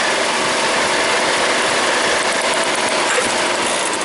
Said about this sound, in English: Doing a cylinder drop test, taking the plug wire out, and it's running the same crappy way.